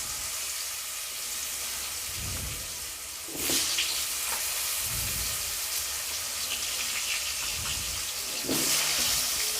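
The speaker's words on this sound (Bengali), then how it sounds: "আলু কাটাগুলোকে দিয়ে আমি এটাকে ভালোভাবে ভেজে নেবো" Cut potatoes fry in oil in a kadai, giving a steady low sizzle and hiss with a few brief louder bursts, probably from stirring or fresh oil spatter.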